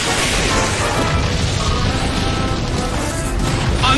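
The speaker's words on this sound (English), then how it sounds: "Annihilated by explosion! A huge amount of damage!" An Explosion move in the Pokémon Battle Revolution video game, a loud sustained crashing blast with dense rumbling debris noise that holds for several seconds.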